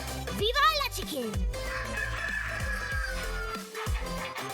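A phone ringtone mimicking a rooster plays a loud, rising-and-falling crow near the start, followed by scattered speech and clucking-like bursts nearby.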